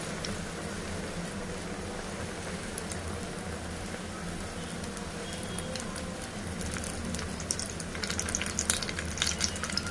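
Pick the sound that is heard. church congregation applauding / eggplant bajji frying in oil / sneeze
eggplant bajji frying in oil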